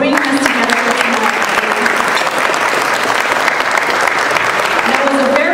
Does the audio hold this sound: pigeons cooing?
no